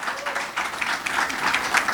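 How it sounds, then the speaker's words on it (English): Audience applause at a magazine celebration event, a steady wash of many hands clapping that fills the short stretch at even loudness with no talk over it. "let's give a round of applause for that"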